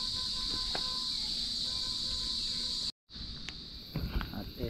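Crickets chirp at night in a rural outdoor setting, a steady high-pitched drone that runs unbroken apart from a brief cutout near the middle, with faint scattered knocks and rustles underneath.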